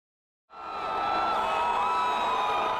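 Tens of thousands of Patriots fans crowding Boylston Street at a parade, a dense wall of cheering and shouting that swells in suddenly after a moment of silence and holds steady.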